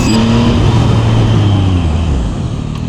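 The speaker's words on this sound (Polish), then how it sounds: "Jedzie mordeczka MT-125." A motorcycle styled as an MT-125 knockoff rides past close by, its loud engine droning and then falling in pitch and fading slightly as it moves away.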